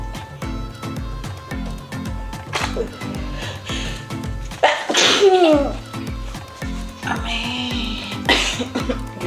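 Someone sneezes during a sneezing challenge, a few sharp sneezes and coughs bursting loudly over steady background music.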